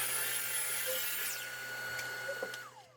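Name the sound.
miter saw cutting board to length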